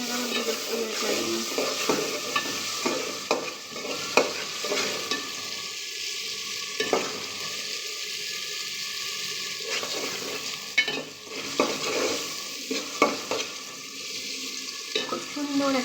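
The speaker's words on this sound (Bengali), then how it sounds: "আমার পেঁয়াজ কষানো দেখে আপনারা আমার বিরক্ত হয়ে যাবেন।" Onions sautéed in a pan for a beef and chickpea dal curry, a steady sizzle with frequent scraping strokes of a spoon stirring throughout.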